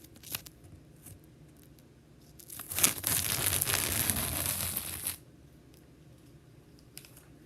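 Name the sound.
tape being peeled off a model car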